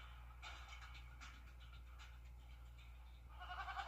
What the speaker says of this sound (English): What's with all the goats?